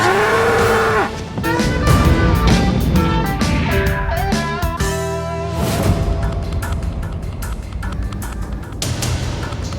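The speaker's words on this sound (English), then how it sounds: "I'm out there riding through the cattle, checking on the baby calves" Cattle on a ranch moo loudly and repeatedly, with long, deep, overlapping calls from several animals close by and hardly any pause between them.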